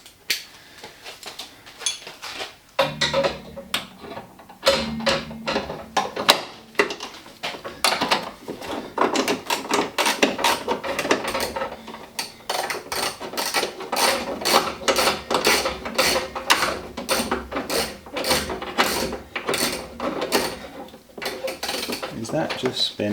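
A ratchet fitted with a 14mm socket clicks in quick, steady runs while turning a bolt under the bonnet of a Toyota GT86, close and loud, with short pauses between strokes and occasional metallic clinks.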